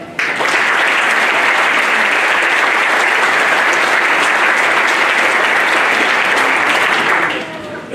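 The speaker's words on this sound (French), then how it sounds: "Et eux aussi, on peut les applaudir" Sustained audience applause during a French mayoral speech in Isola, dense and loud throughout, fading slightly at the very end; no talk over it.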